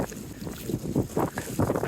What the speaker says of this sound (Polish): ten packraft jest dosyć wysoko nad wodą, więc ten wiatr no spycha go.